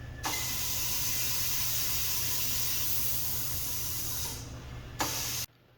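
Compressed air hisses steadily and loudly into a car tire on a tire changer, dropping briefly before a short burst and then cutting off.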